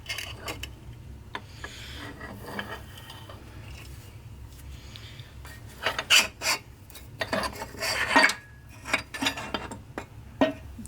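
Metal transmission retainer on a Ford tractor 5-speed gearbox being wiggled loose, giving faint scraping and grating rasps with a few sharper metallic clinks, close by and without talk.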